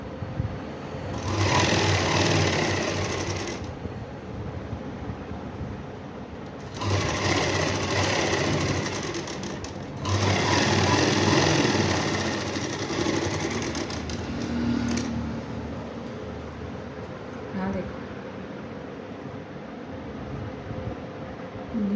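A sewing machine stitching a pocket onto palazzo trousers, whirring in loud continuous bursts of a few seconds each with brief pauses between runs, close and alone.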